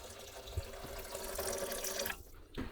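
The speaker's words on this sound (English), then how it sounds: "we're gonna take half of our chicken stock and pour that in" Chicken stock pouring into a stock pot for chicken and dumplings, a steady close splashing stream that stops near the end.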